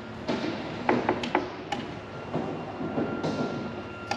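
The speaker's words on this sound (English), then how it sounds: "There's a hydraulic jack at each wheel and up here." A hydraulic jack operates on a 2023 Forest River Cherokee Grey Wolf 16GRH fish house with a low mechanical hum. Irregular clicks and ratcheting knocks sound close by, with no talking.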